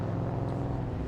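A Holden Commodore historic racing car passes at a motor racing festival: a steady, dense engine roar at constant loudness through the whole short moment, with no talk over it.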